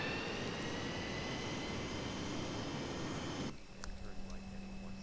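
Dassault Mercure 100 jet in a Prepar3D flight simulator spooling up for takeoff, a steady loud engine roar and whine that cuts abruptly to a quieter hum with a tone, faint voices underneath.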